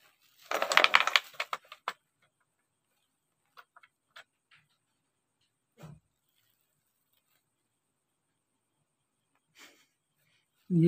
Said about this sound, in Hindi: खटर खटर आवाज।